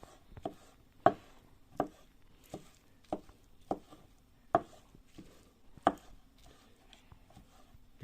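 A cooked omelette being cut into small pieces for mixing with rice, with sharp knife chops on a board striking in a slow, roughly even series of about a dozen clean hits, close and alone.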